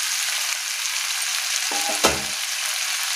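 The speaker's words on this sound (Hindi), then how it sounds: "अपनी भुनी हुई सब्जियों को जो हमने पहले भुना था, आलू, ब्रोकली और फूल गोभी, इसको भी हम डाल देंगे इसी समय।" Pre-roasted potato, broccoli and cauliflower fry with mixed vegetables in a pan, a continuous close hiss with a brief clatter and stirring scrape as pieces drop in.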